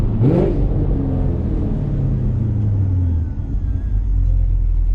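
Chevrolet Camaro 1LE with a big cam, its engine revving up sharply then settling into a deep, loping rumble heard close from inside the car, with no voices over it.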